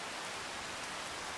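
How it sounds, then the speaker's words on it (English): Rain during a storm in the farming game Farming Simulator 25 hisses as a steady, quiet wash of dense droplets, even and unbroken with no talking. "It's storming Norman. It's raining."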